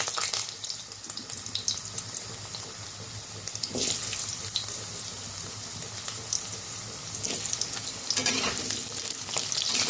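Potatoes frying in oil in a pan after a tempering of bay leaf and five-spice, a steady close crackling sizzle with occasional scraping and stirring clatter, no voices.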